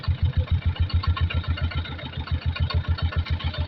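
Orange Kubota tractor engine running close by, a loud rapid even chugging pulse continuing throughout with no talking.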